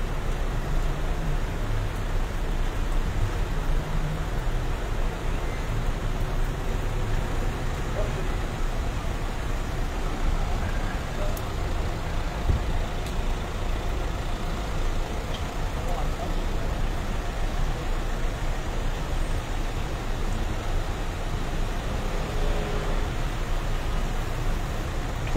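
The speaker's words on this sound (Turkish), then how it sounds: "trafik kilitlendi" Steady low rumble of a stationary traffic jam on a city street in Ataşehir, Istanbul, with idling cars, trucks and buses forming a constant engine drone throughout, no distinct horns or passing vehicles standing out.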